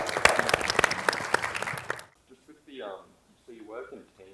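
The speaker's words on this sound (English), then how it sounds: "I'd like to thank the panel and give them a round of applause," A seated audience applauds a panel at a talk on PhD research, dense clapping for about two seconds that stops abruptly, followed by a person beginning to speak.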